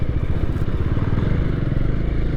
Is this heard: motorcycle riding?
yes